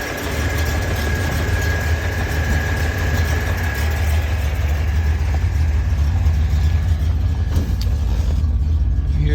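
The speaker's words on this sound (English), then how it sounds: "You can hear the fan." An electric radiator fan runs on a warm, idling 1972 Datsun 240Z, a steady whooshing hum over the engine's low, even idle, recorded up close with no speech.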